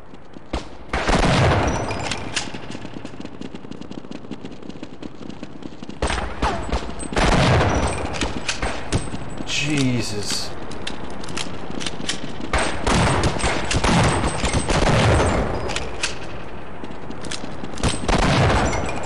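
Heavy gunfire in the game Half-Life: loud bursts of rapid shots and booming blasts repeat throughout, with short lulls between volleys.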